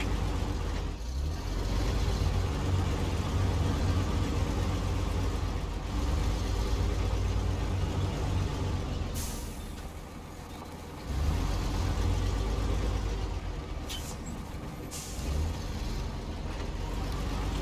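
A truck engine idles in the off-road driving game SnowRunner, a steady low rumble held close throughout, dipping briefly midway before settling back to a constant drone, with no talking.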